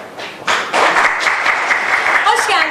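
Applause swells up to welcome a guest onto the stage at a hospital group's New Year celebration, dense steady clapping that carries on while a voice speaks over it.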